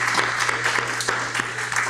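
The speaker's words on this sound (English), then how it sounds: "can we get one more big round of applause for all the incredible service dogs who've graduated from Mule Creek?" A crowd claps steadily and loudly for graduating service dogs at an incarcerated trainer graduation ceremony in C-Yard at Mule Creek, a dense sustained round of applause with no voices over it.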